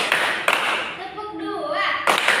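Children in a small-group classroom lesson clapping on cue: a few sharp, close claps separated by a spoken voice in between.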